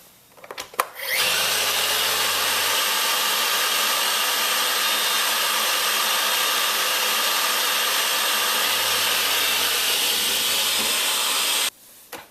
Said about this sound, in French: pour tester la vitesse d'aspiration, j'ai décidé de saupoudrer de la farine tout autour de l'aspirateur